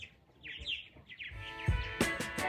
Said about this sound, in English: Very busy colony of the laser birds, purple martins.